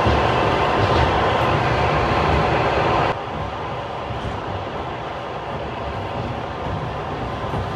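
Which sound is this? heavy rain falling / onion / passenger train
passenger train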